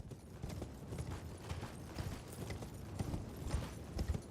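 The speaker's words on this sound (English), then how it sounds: "I can ride my horse here." Horse hooves clip-clop steadily in Elden Ring, a rapid, even gallop-like rhythm of soft thuds that runs the whole time at moderate loudness, with no talking over it.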